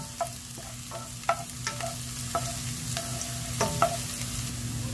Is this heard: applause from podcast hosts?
no